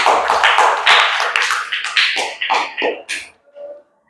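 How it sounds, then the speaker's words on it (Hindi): Children in a classroom clap for a classmate, a burst of many hands starting loud and thinning into scattered, uneven claps before fading out. "ताली बजा दीजिए इनके लिए"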